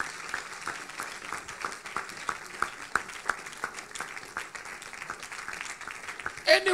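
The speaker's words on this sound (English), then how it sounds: "clap your hands for this." A church audience at a prophetic night service in Accra claps their hands, a fairly quiet run of irregular individual claps, with a louder burst near the end.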